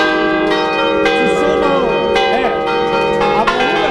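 Church bells in Braone, Valcamonica, Italy, ring steadily and loudly, several tones overlapping in a layered peal with repeated strikes and long sustained resonance.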